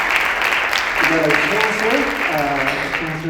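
An audience at a school champions celebration applauds the mayor with broad, sustained clapping, while a speaker's voice keeps talking over the applause throughout.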